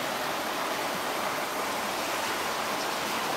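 Water pours steadily out of the spillway of a spring house at White Springs, Florida, by the Suwannee River, a close, constant broadband rush with no break and no voices.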